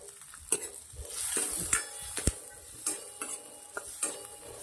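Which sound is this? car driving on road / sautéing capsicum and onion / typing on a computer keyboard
sautéing capsicum and onion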